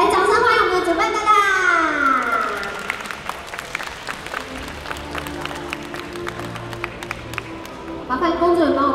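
Audience applause at the second day of a stage event, welcoming the organizer: dense, steady clapping from a crowd, fairly close and loud, with a voice speaking over it at the start and again at the end.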